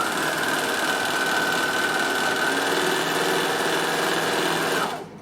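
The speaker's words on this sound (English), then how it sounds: "So now I'm just going to overlock that seam there" An overlocker runs a seam through cotton fabric with a steady, fast mechanical whir and hum that stays level and close, then winds down at the end.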